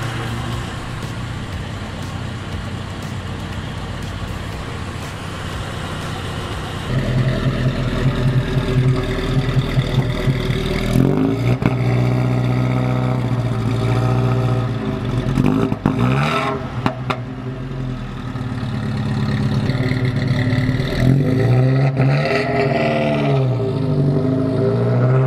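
Alfa Romeo Giulietta engine idles roughly, then rises into a louder running note with repeated revs climbing and dropping, close and alone without speech.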